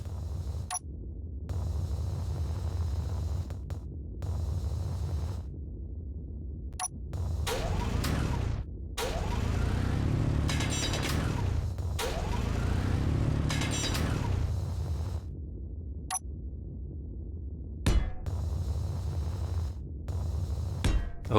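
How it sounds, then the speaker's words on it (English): Drill grinding into asteroid rock in Space Engineers, loud bursts of harsh mechanical grinding and rumbling separated by short quiet gaps, with sharp clicks in between, no voices present. "it's time to take the drill out again and make some more space"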